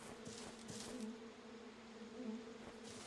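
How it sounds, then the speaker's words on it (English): Bees buzz steadily in the game Monster Hunter Stories, a continuous droning hum that stays at an even, moderate level alongside soft game ambience, with no talking. "Yes, I hear bees."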